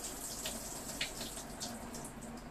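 Soaking water being drained from sprouting seeds, a soft steady trickle and splash of water running out, quiet and close, with small drip-like spatters scattered throughout and no talking.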